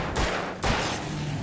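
Two heavy shotgun blasts ring out in the video game Alan Wake, each a sharp, loud boom with a decaying tail, roughly half a second apart, followed by a low rumbling ambience.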